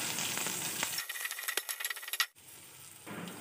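Onions and cumin seeds sizzle and crackle in a hot pan, a steady broadband fry punctuated by sharp clinks and stirring scrapes, close and fairly loud with no talking.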